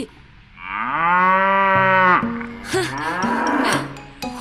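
Cows mooing loudly and close by, one long drawn-out moo followed by shorter lowing calls, with no talk over them.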